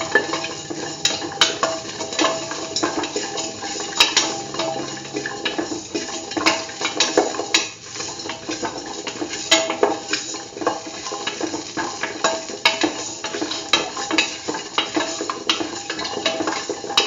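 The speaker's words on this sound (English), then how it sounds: "Salt and mix thoroughly." A beetroot and mung bean mixture is stirred with salt, giving a continuous wet, clattering scrape of utensil against pot, busy and close with irregular knocks throughout, and no voices.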